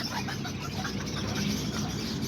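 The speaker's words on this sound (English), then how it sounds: "And these are all the little chickens." Small serama chickens cluck softly in scattered short calls, faint and close, amid low background noise.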